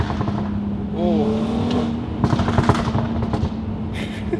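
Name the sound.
car driving over potholes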